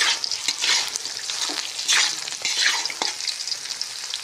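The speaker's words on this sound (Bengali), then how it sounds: "আলু পটল ভাজি করছি" Potato and pointed gourd frying in a pan, a loud close hiss of oil with repeated scraping stir strokes rising and falling over a few seconds, no speech.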